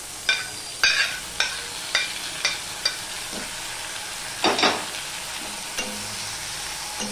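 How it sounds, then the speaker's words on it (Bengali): Grated onion and garlic fry in hot oil in a pan, a steady close sizzle broken by a series of sharp scraping clicks as a spoon stirs the mixture. "এবার এর মধ্যে আমি যে গ্রেট করা পেঁয়াজ আর রসুনটা রয়েছে সেটা আমি দিয়ে দিলাম।"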